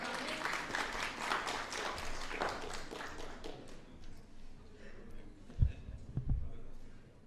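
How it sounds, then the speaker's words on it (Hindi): Audience applause at an Indian televised panel event, a lively burst of clapping that tapers off within a few seconds and is followed by a few isolated thumps and taps. "तो तालियां बजती रहनी चाहिए।"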